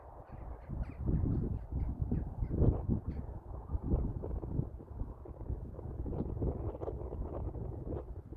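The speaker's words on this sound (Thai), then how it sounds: "ลมมาจ้ะลมมาฝูงนกบินว่อนเลย" A flock of migrating birds calls in the Swedish countryside, with scattered caws and cries over gusting wind buffeting the microphone.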